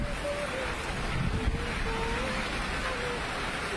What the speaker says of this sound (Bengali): বৃষ্টির সাথে অনেক জোরে বাতাসও বইতেছে